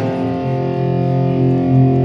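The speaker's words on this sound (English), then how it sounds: "Now you want to add a fair bit of distortion." A heavily distorted electric guitar power chord on a detuned guitar, sustained and buzzing with thick harmonics, ringing steadily at close range with no voices over it.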